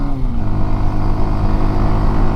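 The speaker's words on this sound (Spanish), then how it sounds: "En la moto en subidita, voy con acompañante y la moto nítida, vamos en tercerita." A Suzuki V-Strom 160 motorcycle carrying a passenger drones steadily and loudly up close in third gear while climbing uphill, holding a constant low hum as it pulls along.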